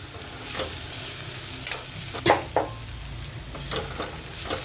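Mixed vegetables stirred and sautéed in a pan, a soft steady sizzle with scattered spoon scrapes and a couple of sharper clicks against the pan.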